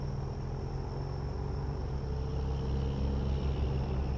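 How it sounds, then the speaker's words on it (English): In American Truck Simulator, low engine rumble and road noise swell as heavy trucks roll past in the other lane nearby, a steady droning hum with a faint high tone above it. "You hear the trucks going by in the other lane?"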